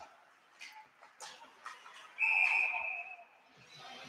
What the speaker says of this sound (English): And we'll have a quick whistle there.